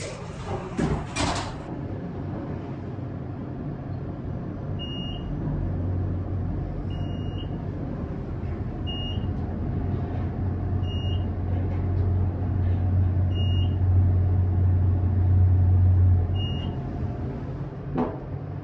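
A MontgomeryKone traction parking elevator at a Colorado casino, with doors sliding at the start and then a steady running hum while the car travels, a chime or beep repeating every couple of seconds, and no voices.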